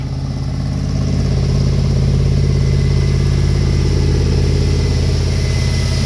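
A car engine that had trouble starting on an almost-dead battery, just fitted with new spark plugs and wires, runs close by at a loud, steady idle with a constant rhythmic rumble.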